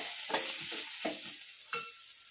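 Spices frying in hot oil for crab masala, a steady close sizzle with three spoon stirs scraping through the pan, no voices.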